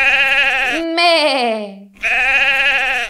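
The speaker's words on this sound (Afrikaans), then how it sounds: "Wat 'n dier sê mee? Ja, dit is 'n skaap." A sheep bleats loudly and close in a children's farm-animal song, with three wavering, nasal cries in a row and a short gap after the first.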